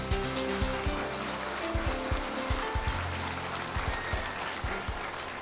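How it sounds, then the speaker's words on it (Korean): A public lecture audience in Gunpo applauds in welcome as Professor Park Dong-gyu takes the stage: sustained, even clapping throughout, with a soft tonal backing underneath. "시민 여러분의 뜨거운 박수를 부탁드리겠습니다"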